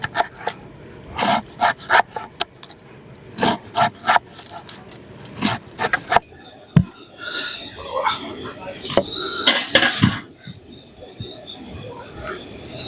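Rough jackfruit skin is scraped and peeled by hand in bursts of rasping, rubbing strokes, some sharp and loud, with people talking nearby in between.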